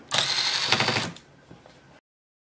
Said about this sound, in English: Okay, time to remove all the screws now.